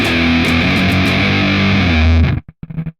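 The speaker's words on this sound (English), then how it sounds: "a lot of distortion going on. We did a fuzz. This is by Audiority. Big Goat is a Big Muff replica." Thick fuzz-distorted electric guitar through the Audiority Big Goat plugin, a Big Muff replica, sustains a dense, saturated chord for about two seconds, then cuts off into a few short choppy stabs.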